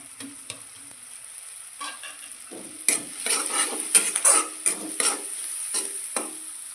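Salt, turmeric, coriander, cumin and chili powder go into a hot pan with oil and are stirred. Close, rhythmic spatula scrapes and clinks against the metal pan ring over a soft sizzle, with no talking.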